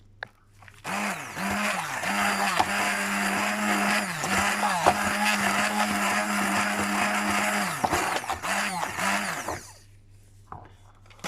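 An electric mixer whisks carrot cake batter after flour is added, a loud, steady motor whir with a rhythmic wobble as the beaters turn through the thick mix, lasting about nine seconds before stopping.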